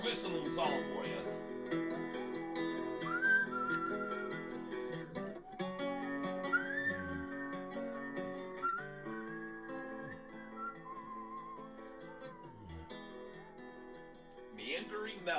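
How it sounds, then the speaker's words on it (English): A person whistles a short, wandering little tune at a steady moderate level, the melody drifting up and down over a faint background hum. "Little whistling song for you."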